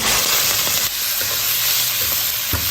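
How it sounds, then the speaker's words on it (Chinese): Minced pork frying in hot oil in a wok for a home-style noodle dish, a loud steady sizzle with spatula stirring scrapes running throughout, no voices. "热锅凉油，下肉末。"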